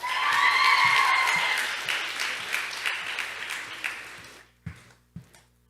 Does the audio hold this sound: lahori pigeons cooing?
no